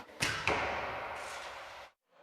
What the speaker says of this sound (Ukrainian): Наскільки вправно вінницькі ветерани стріляють з лука